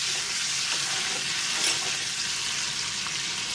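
Eggs rubbed with turmeric and salt fry in hot oil for an onion egg curry, producing a continuous close crackling sizzle with occasional stirring or turning noises and no voices.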